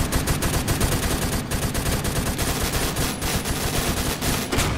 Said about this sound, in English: I'm just laying cover fire.